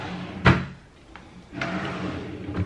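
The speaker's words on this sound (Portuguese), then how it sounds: "Portanto, vou ter que ir para a gaveta de baixo." A drawer holding makeup is pulled open, giving a sharp knock, a smaller click, then a sliding rumble with another light knock at the end.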